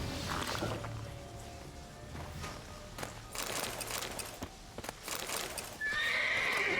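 The horse Roach in a video game, whinnying and neighing loudly with hoof clip-clops and snorting, close up, with a brief high tone toward the end.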